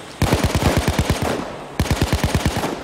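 Rapid automatic gunfire from Payday 2 while shooting enemies, two close, loud bursts of evenly spaced shots separated by a brief pause.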